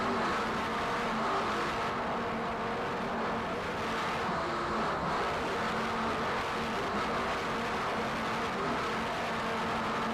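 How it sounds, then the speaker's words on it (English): Twin 850-horsepower Mercury inboard engines on a 40-foot Jaguar offshore racing powerboat roar in a steady, dense drone throughout the race, loud and continuous with no talking. "a 40-foot Jaguar, powered by two 850 horsepower Mercury inboards."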